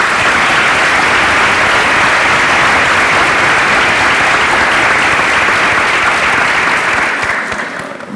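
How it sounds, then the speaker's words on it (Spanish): A large audience at a Buenos Aires-style education forum bursts into sustained, loud applause, a dense wash of clapping that holds steady for about seven seconds before tapering off at the end. "Lo primero que quiero hacer es aplaudirlos a ustedes."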